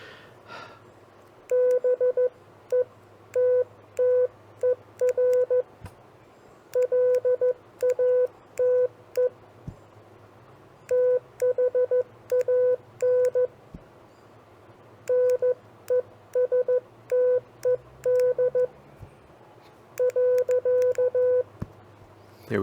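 Morse code CW practice tones sending common phrases, a steady single-pitch beeping in rapid dot-and-dash bursts grouped into repeated phrases with short pauses, over faint background hum, no talk.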